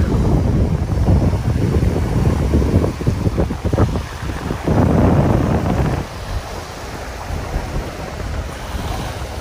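Wind and ocean surf washing over a reef on an overcast day in the Dominican Republic, a steady loud roar of breaking waves with heavy wind buffeting the microphone, swelling and easing in surges.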